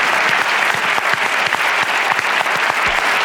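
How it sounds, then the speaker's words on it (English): An audience at a bookshop event claps steadily, a dense, even patter of many hands filling the room from start to end with no voices on top. "So another round of applause for Peter and for Ernest."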